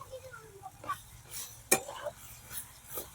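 Salted onion and chicken being stirred in a pot over a wood-fired village stove for Vidarbha-style chicken rassa: scattered scrapes and light metallic clinks against a faint background, with a voice talking at times.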